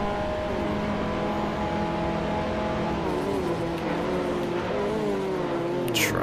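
Several SEAT Ibiza Cupra race cars in Forza Motorsport 4 roar together in a touring car race, a loud sustained multi-engine whine with rising and falling revs and a brief sharp noise at the end.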